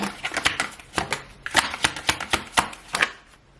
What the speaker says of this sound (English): Shall we shuffle once more?